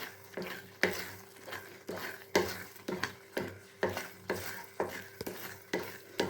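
A ladle stirs bread halwa in a pan with ghee, giving rhythmic scraping strokes about every half second, each a soft thud and swish with faint sizzling between them, close and clear, with no voices.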